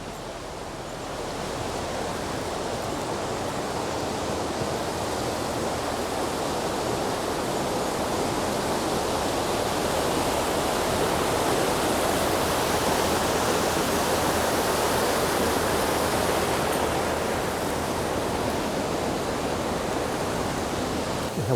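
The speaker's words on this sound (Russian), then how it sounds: "У нас по маршруту речка с голубой водой." A river of blue water runs beside a hiking trail toward the Torres del Paine towers in Patagonia, giving a steady, broad rushing wash with no voices over it.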